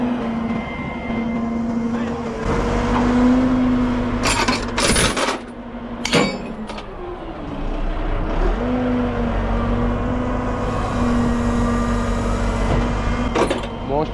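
A large crane truck's diesel engine idles and runs steadily up close, a constant low rumble with a pitched drone, interrupted by sharp clanks and metallic knocks as someone talks over it.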